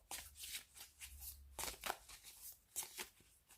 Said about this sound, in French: Et je vais vous tirer également une carte de rituel.